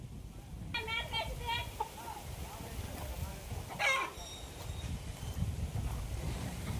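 Country chicken clucking and squawking in short bursts while being chased outdoors, mid-distance and over steady background rumble, with a louder flurry of calls partway through.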